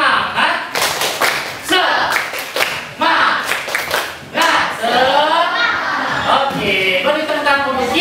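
A group of children and a teacher perform a rhythmic spirit clap in a classroom, with patterned bursts of claps and thumps mixed with chanted voices, loud and close.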